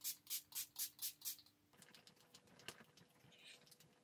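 A quick series of six short, bright hissing spritzes from a Revolution Matte Fix makeup setting spray bottle, followed by quieter rustling and handling noises.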